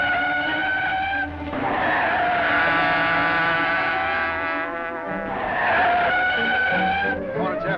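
A car swings around a corner with tires skidding and squealing loudly for several seconds over a roaring engine, a sound effect in a vintage radio drama, with no talk.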